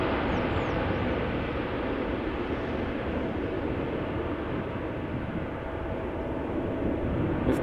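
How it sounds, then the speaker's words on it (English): An airplane departs from runway 36L at Amsterdam Schiphol, a steady, broad roar of jet engines that holds at a constant loudness throughout. "If only all airplanes could make that sound."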